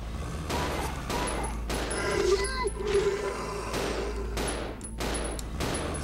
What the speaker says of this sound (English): So I like Billy's gun because it shoots faster.